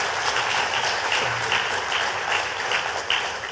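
Audience applause for Simon at a Grenada cultural and creative industries conference, a broad, even roar of many people clapping at moderate distance, continuous without pause.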